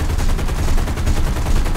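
Aircraft cannon in the War Thunder combat game fires in a sustained, rapid burst of dense, loud gunfire that continues without pause.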